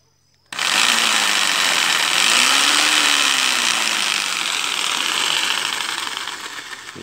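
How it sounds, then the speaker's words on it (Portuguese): A homemade jigsaw runs loud and close: a harsh, steady buzzing saw noise with a motor whine that swoops up and down in pitch, continuing for several seconds. "Tá aqui a serrinha, ó, na tico-tico."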